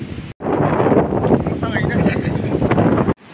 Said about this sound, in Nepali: भुटानमा चाहिँ यस्तो हावा चलिरहेको छ है